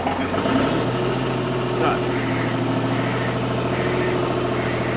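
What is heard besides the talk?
boom lift raising its basket section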